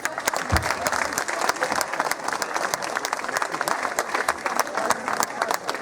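A crowd at a lantern festival applauds steadily and warmly after a musical performance, many hands clapping at once in a continuous, fairly close wash of sound.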